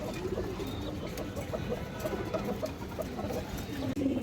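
A flock of Giribaz high flyer pigeons coos continuously in a dense, overlapping chorus, close and steady, with a faint murmur of background voices.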